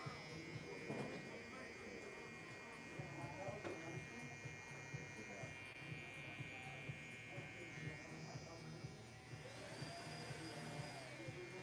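Electric hair trimmer buzzing steadily through a barbershop fade blend, a continuous motor drone running under nearby talk and shop background noise.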